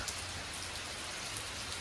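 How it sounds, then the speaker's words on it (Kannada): Steady rain pours around a tiled-roof house set in forest near the mountains of Thirthahalli in the Malnad region, a continuous close hiss of drops on surfaces with a faint low hum underneath and no voices. "ಮಳೆ ಬರ್ತಾ ಇದೆ ಇವಾಗ"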